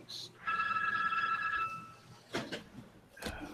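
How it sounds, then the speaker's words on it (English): A telephone rings in a room with a steady electronic tone followed by sharper bursts, and people talk around it. "Of course the phone rings."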